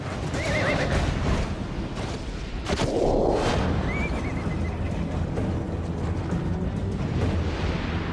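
A horse gives a loud, drawn-out whinny near the start, then a second neigh follows, over continuous rumbling background noise with hints of hoof clops.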